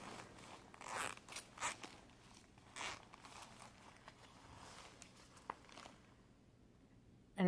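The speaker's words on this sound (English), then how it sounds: "The zipper top." A zipper on a heavy-duty crochet project bag being worked open in a few short, scratchy bursts, faint and close, with quiet handling noise between pulls and no talking.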